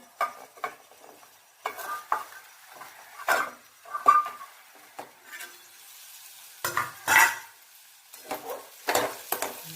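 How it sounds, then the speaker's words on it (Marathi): Ghevda bean bhaji being stirred in a pan, irregular scraping strokes of a spoon against the metal with faint clinks and quiet pauses between, close and fairly soft, with a light sizzle underneath. "असे हलवून घ्यायचे आहे सगळे"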